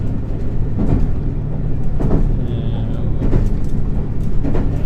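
Hybrid electric-diesel train, the Resort Shirakami in Japan, running along the track with a steady low rumble and rhythmic wheel thumps, heard from inside the carriage.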